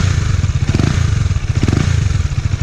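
A KTM Duke 250 motorcycle engine idles with a steady low rumble, blipping the throttle twice into brief rising revs before settling back.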